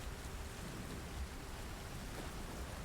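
Heavy storm rain pours steadily on a ship, a constant, even hiss and wash with no breaks, fairly faint and heard alone.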